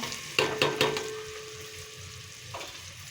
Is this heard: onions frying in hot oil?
yes